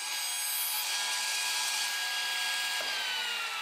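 A CNC machine cuts wood panels for small prefab homes in a workshop, giving a steady, bright, high-pitched whine and cutting hiss that holds evenly for a few seconds without pause.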